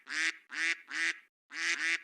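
Five nasal duck quacks from a sound effect, loud and close, spaced in a quick rhythm with a short pause before the last pair.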